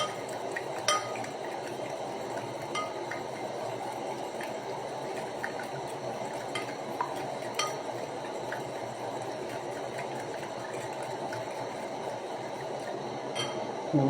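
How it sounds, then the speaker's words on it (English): Eggs are whisked in a bowl, producing a continuous soft rattling and scraping with occasional sharper clinks of utensil on the bowl, steady and close throughout. "I just mix up my eggs"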